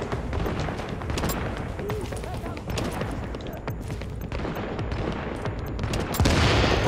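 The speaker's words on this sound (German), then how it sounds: "Oh, der ist explodiert." Continuous crackling rounds of automatic gunfire in the video game The Division on PS4 rattle throughout, with a heavier booming explosion near the end; a voice speaks intermittently underneath.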